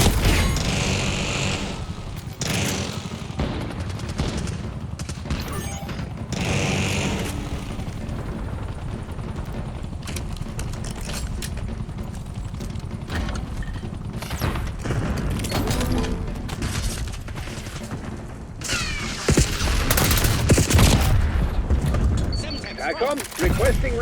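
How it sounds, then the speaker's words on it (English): Hand cannon gunfire in a first-person shooter video game, loud repeated shots and booms in dense bursts mixed with game effects, with voices talking over the action throughout. "Hand cannon going hard."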